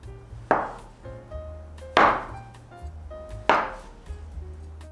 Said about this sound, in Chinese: 直接切成和饺子差不多的剂子就行